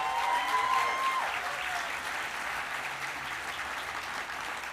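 An audience at an architecture awards ceremony applauds in a steady, sustained wash of clapping, heard from within the room.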